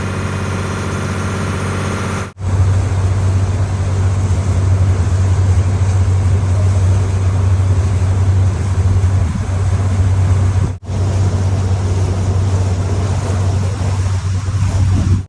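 Loud, steady low drone of a government passenger boat engine crossing Vembanad Lake in Kerala, running continuously, with a constant throbbing hum and vibration throughout.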